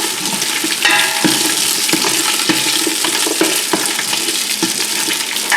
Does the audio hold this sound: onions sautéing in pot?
yes